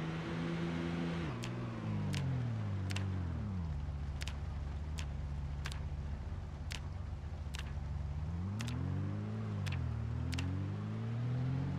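Car engine hum in a video game, a steady low drone whose pitch dips and rises twice as the vehicle slows and speeds up again, with regular sharp clicks ticking over it throughout.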